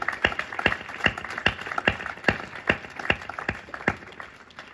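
Hand claps from a small audience at a Hindi comic poetry gathering, sparse and uneven, a dozen or so sharp separate claps in a loose irregular rhythm without talk.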